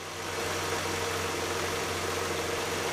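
A car engine idles steadily with a constant hum and faint mechanical rattle, heard up close through metal contact, with no talking.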